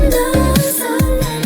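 Bright summer pop from a K-pop song, with a punchy repeating bass and beat under sustained synth chords, loud and full.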